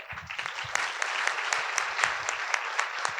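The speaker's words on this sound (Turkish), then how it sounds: "Bence bu, bu ürün daha fazla alkış hak ediyor." Applause from a seminar audience in Turkey for a product presentation, a continuous clatter of many hands with distinct nearby claps popping out at a steady pace.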